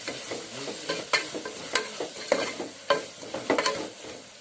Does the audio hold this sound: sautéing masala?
yes